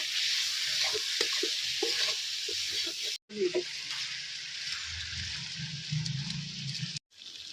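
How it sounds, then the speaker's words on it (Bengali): A spice paste of chilli and cumin powder with a splash of water fries in a pan for a katla fish head curry, making a loud hissing sizzle with stirring clatter, broken by two abrupt cuts, while a voice talks in the background. "এবার মশলাটা ভালো করে কষিয়ে নেব"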